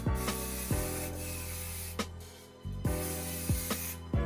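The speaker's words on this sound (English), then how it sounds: "You get a whole bunch of hairspray." Hairspray from an aerosol can is sprayed onto long hair in several sharp hissing bursts, each starting with a click and fading into a steady hiss, close and without talk.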